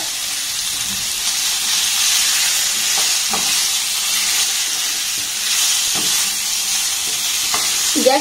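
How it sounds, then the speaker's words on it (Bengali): Indian gooseberries (amla) tossed into a hot pan and stirred, giving a steady broadband sizzle and hiss throughout with a few faint scraping clicks of the spoon; no one speaks. "এবার এই আমলকিগুলো এর মধ্যে আমি দিয়ে দেব।"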